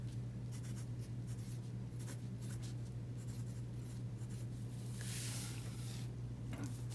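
Marker or pen writing labels in the top corners of sheets of construction paper, a steady continuous scratchy scribbling across the whole stretch with short pauses between strokes, close and fairly quiet over a constant low hum.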